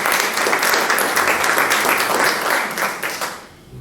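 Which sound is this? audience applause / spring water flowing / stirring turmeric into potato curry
audience applause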